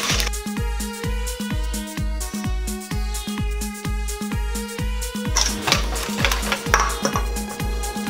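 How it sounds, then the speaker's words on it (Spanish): Fork or whisk beating French toast batter for Nutella French toast in a bowl: a steady, fast run of close, crisp clinks against the bowl, turning into busier, scraping clatter near the end. "lo batimos todo"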